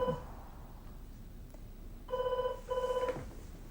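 A telephone bell rings in two short bursts, fairly quiet and set back in the room, over a low steady background hush with no talking.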